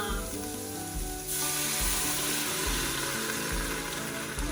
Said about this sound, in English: these will not take long to saute at all